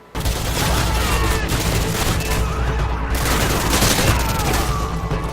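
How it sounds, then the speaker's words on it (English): Rifle gunfire at targets in Call of Duty: Modern Warfare 2, loud and continuous, with overlapping shots and battle noise filling the whole stretch. "I'll shoot the targets with my rifle"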